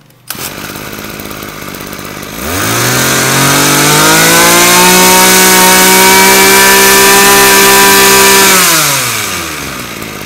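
A Japanese mini water pump's small engine, Cosin brand, model IP 09 with a 34 mm bore, is yanked by its pull cord and catches, revving up to a loud, steady, high buzzing roar that holds for several seconds before dropping away.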